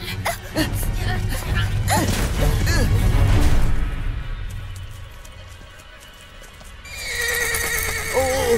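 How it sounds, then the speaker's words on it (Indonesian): A frightened horse in an animated Bible story neighs and whinnies loudly, with hooves clopping and a sharp gasp, before the sound drops away. "Oh, kenapa kuda ini ketakutan?"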